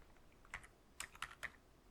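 Quiet, close keystrokes on a computer keyboard, a handful of soft clicks in a short burst with small gaps between them, alone against a faint room hum.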